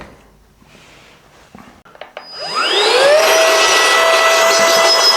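A SAKER jump starter's built-in air compressor switches on after a few clicks and handling noises, its motor spinning up and settling into a loud, steady whine and hum that continues to the end.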